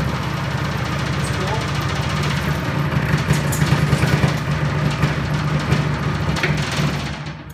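A vintage automatic vibrating machine built with square nuts and weighted wheels on both sides runs on its old motor, giving a steady low hum and a rapid mechanical rattle that hold at an even loudness throughout.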